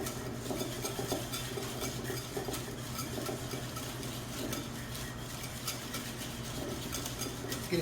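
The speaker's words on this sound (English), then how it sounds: "We're going to start whisking it." Heavy cream is whisked by hand in a bowl, giving a fast, steady rhythmic clatter and swish of the whisk against the bowl that runs close and continuous throughout.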